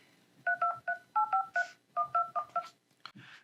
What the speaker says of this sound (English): This will bring up your number keypad, and I'm going to type in a phone number